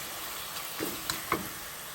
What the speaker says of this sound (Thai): ทีนี้เราก็จะใส่น้ำค่ะ